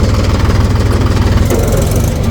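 A tractor engine running while driving in a village throbs loudly and close, a steady pulsing rumble with rattling vibration and no voices.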